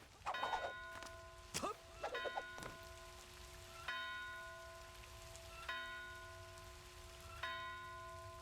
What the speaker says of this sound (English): The bell rings just randomly.